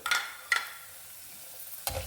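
Chana dal and urad dal roasting in hot oil with spluttered mustard seeds, heard as three short bursts of sizzling and stirring at the start, middle and end, with quiet frying hiss between them and no talk.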